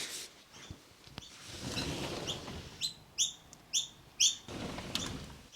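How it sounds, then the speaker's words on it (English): Birds chirping outside, a few loud, sharp repeated chirps close by in a short series over quiet background noise with light shuffling. "Oh my god, those birds are going to ruin my audio."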